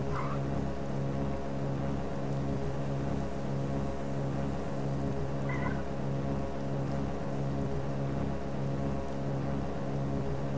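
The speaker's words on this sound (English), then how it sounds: "It's raining." Rain falling in the driving game Dead End Road, a steady soft hiss laid over a constant low, humming engine drone, with no talking.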